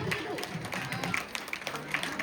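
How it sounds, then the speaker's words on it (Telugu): An audience at a Sankranti celebration in Riyadh applauds, giving brief, faint scattered clapping mixed with crowd murmur. "మీరు మీ చప్పట్లతో చూపించాలి."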